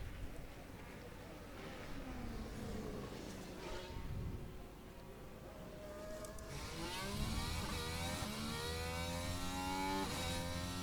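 A racing car engine from an F1 video game laps the Belgian Grand Prix circuit in qualifying. It whines at a moderate level, rising and falling in pitch through gear changes, then climbs into a higher, sustained scream.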